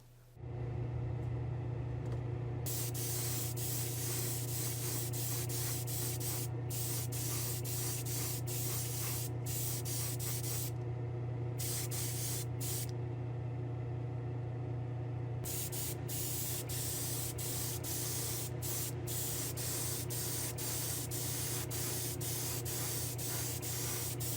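Steady aerosol hiss of spray paint laying a final clear coat on a model Nova gasser wagon with golf livery, continuous and close throughout with brief interruptions, no voices.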